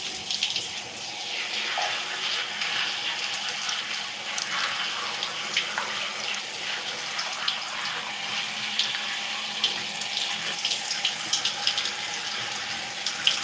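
Cold water running steadily from a tap while hair is being washed, a continuous close splashing hiss with small irregular spatters and no talking.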